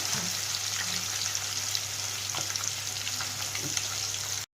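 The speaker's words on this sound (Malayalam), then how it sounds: "ഇനി നമുക്ക് ആ മീൻ എൻ്റെ അകത്തോട്ട് ഇടാവേ, വറുത്തെടുക്കാം." Pieces of fish frying in hot oil for a Kerala-style fish pickle, a steady, even close sizzle that runs unbroken with a few faint pops, then cuts off abruptly at the end.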